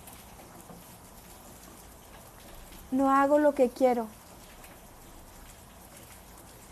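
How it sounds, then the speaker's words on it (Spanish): Steady rain falls outdoors as a continuous, fairly faint wash of hiss through the whole stretch, with someone speaking over it briefly in the middle. "Voy a hacer un poquito al lado a ver si se oye menos la lluvia."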